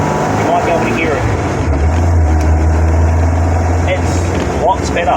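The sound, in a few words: BMW M10B18 engine running with 45mm Weber DCOE carburettors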